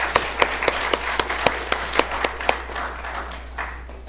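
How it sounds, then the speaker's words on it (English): A small audience claps for three panelists at an academic talk, with distinct individual claps standing out near the start before settling into lighter, thinning applause. "So please give the 3 panelists a round of applause"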